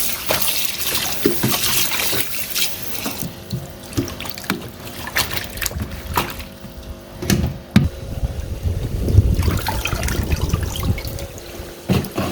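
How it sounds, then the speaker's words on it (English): Amaranth leaves are shaken vigorously in a dish of water, giving a continuous close splashing and sloshing with trickling and dripping, loud and steady throughout with no talk. "placing them in a dish with water and vigorously shaking them about just to loosen any dirt or debris that may be stuck within the leaves"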